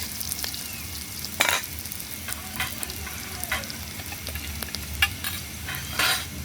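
Cumin, ginger and green chilli paste frying in a pan over a wood-fired clay stove, a steady close sizzle with several sharp scraping stir strokes spread through it.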